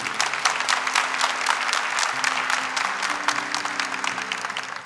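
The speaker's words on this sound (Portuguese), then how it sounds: "Uma salva de palmas para a palavra de Deus." A church congregation applauding after a sermon, steady dense clapping throughout, fairly close and loud with no speech over it.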